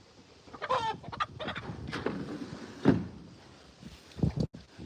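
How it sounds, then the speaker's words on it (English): Chickens being rounded up one by one into a coop, with scattered clucks and squawks amid rustling and handling noise, fairly close. "We're just slowly rounding up chickens one by one."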